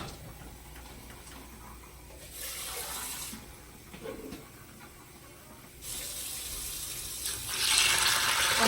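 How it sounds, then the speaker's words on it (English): Water runs from a tap into an Instant Pot of beans, onion and bell pepper, a soft steady splashing that swells in two louder bursts amid quiet kitchen background. "and now I'm going to put some water."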